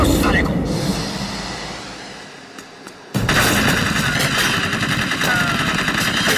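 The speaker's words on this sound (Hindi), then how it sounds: "सेम गन से गोली निकल रही है यार" Gunshots in an action film fight scene, a loud sudden burst of firing that bursts in midway after a quieter stretch, with dense clatter continuing, heard alongside talk.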